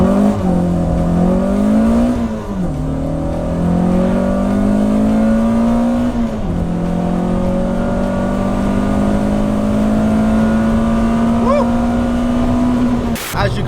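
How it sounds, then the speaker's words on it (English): Peugeot 106 Rallye 1.3 hot hatch with about 100 horsepower launching from a standing start, its engine revving loud and close through rising gears with brief dips at each shift. "I'll do a little standing start so you guys can see what the acceleration is about."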